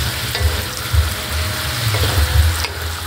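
Dried salted fish (tuyo) stirred in a frying pan, a steady close sizzle with scraping spoon strokes and low clunks against the pan bottom throughout, no voices.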